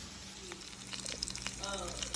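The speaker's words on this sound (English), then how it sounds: "while our bacon is being cooked" Bacon frying in a pan gives a faint, steady crackling sizzle with scattered small pops, quiet and close.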